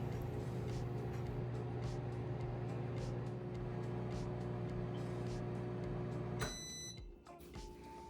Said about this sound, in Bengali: আমি প্রথমে পাঁচ মিনিট মাইক্রোওয়েভ করে নিচ্ছি